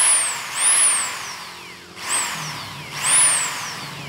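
An ALDO BLT1008 corded torque drill whines up to a high pitch and winds down slowly several times, each spin-down a falling tone as the motor coasts to a stop.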